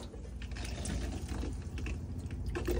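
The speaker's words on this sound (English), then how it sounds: "come over to this, to the sink just here, draw the water through the cold side" Cold tap at a motorhome sink running with the water pump switched on, giving a steady close gush of water with faint mechanical clicks and drips underneath, no talking.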